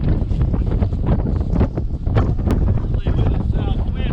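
A south wind blowing hard across an outdoor microphone, a loud continuous rumbling buffet with gusty surges and no speech.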